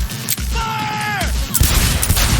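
Rapid gunfire in the video game Cyberpunk 2077, a dense continuous fusillade of loud shots with whining sweeps over it, close and heavy, with a shouted voice briefly in the mix.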